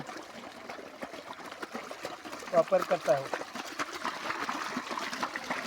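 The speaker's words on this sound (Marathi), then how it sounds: "हा पाणी चाललेला आहे अशा पद्धतीने आम्ही शेतामध्ये पाणी" Running water trickles and gurgles steadily along a farm field irrigation channel, heard up close beneath someone speaking.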